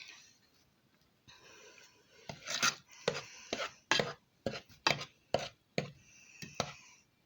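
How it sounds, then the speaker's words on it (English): Thick gooey Kool-Aid playdough mixture being stirred in a cooking pot, giving a series of close, sticky scraping and slapping strokes in an uneven rhythm, quiet at first and then louder, with no talking. "I will show you as I am stirring it what it's looking like"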